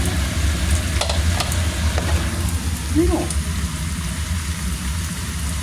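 Pork sizzling and frying in its own rendered fat with no added oil, a steady crackling hiss with occasional stirring scrapes throughout, and a brief voice heard faintly partway through.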